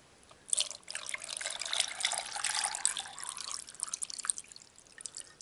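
Water runs and trickles steadily into a rock tumbler barrel holding rockhounding finds, a soft, close splashing that continues for several seconds with no voices.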